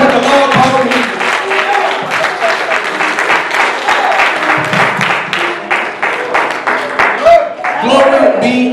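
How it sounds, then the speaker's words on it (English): A church congregation claps loudly in praise during a sermon, with dense sustained applause and rhythmic clapping, shouting and voices mixed throughout, steady and close for the whole stretch. "Somebody better give God a hand clap of praise"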